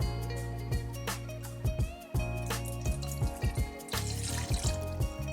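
Water pours into a glass with a rising gurgle, interrupted by several brief clinks and knocks, close and fairly loud, with no talking.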